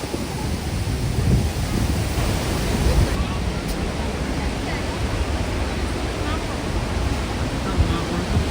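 Strong wind at the Rhine Falls in Switzerland roaring into the microphone in a dense, continuous rumble with gusty swells, loud and unbroken throughout.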